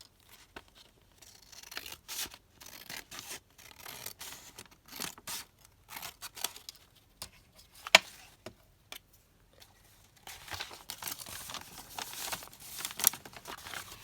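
Scissors snip through a paper craft piece in a quiet, close series of short crisp cuts and rustles, with gaps between them, then a denser run of crinkling toward the end, and no talking.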